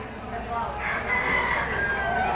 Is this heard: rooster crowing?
yes